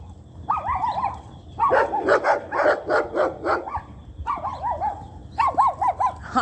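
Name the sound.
small dog barking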